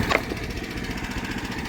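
Sawmill blade cutting a board, a steady engine-driven drone with a brief sharp woody crack near the start, close and moderately loud, with no one talking.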